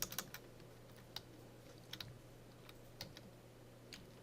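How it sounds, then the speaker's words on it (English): Faint, sparse keystrokes on a computer keyboard, a few scattered taps and short bursts over a steady low electrical hum in a quiet classroom setting. "type another file name for the next piece of data we're going to save"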